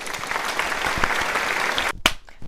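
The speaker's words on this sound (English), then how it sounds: "Let's hear it. Round of applause." A round of applause rings out as a steady crackle of many hands, dense and even for about two seconds before breaking off, followed by a few scattered sharp claps.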